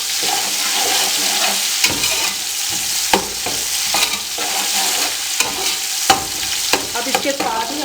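Ingredients for chicken matar pulao roast in a pan, a bright continuous sizzle with frequent spoon scrapes and stirring knocks in an uneven rhythm, loud and close, with no talking.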